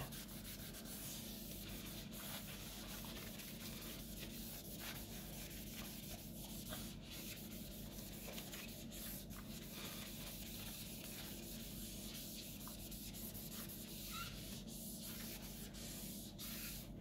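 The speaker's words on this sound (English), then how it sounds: "I've just got IPA on a cloth, tissue, whatever you want. I'm just going over it just to try and get the fingerprints and everything off really." A cloth dampened with isopropyl alcohol rubs steadily across a tablet screen, making a continuous faint swishing and scrubbing at close range, with no pauses and no talk.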